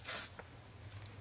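Diorskin Airflash spray foundation released from its can in one brief close hiss at the start, followed by a faint quiet spell with a couple of tiny clicks.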